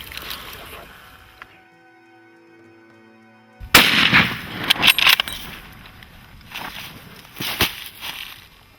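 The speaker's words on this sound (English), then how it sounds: "As soon as he steps in that opening, I'm gonna shoot." Rifle shot fired while hunting Cape buffalo in Zimbabwe, a sudden loud crack after a quiet stretch, followed by a few more sharp bangs and rustling outdoors.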